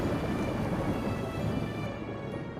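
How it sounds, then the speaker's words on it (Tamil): A dense, steady roar of heavy rain, with low rumbling beneath it, continuous and close throughout. "சரியான மழைதான்."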